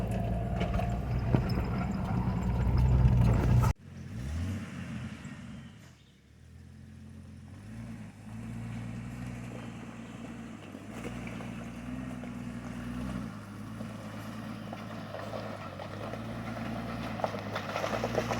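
A Jeep Wrangler in four-wheel drive climbs a steep, bumpy 40-degree incline, its engine a steady low drone with a loud burst of rumble and wind early on, then a continuous moderate hum with no talking.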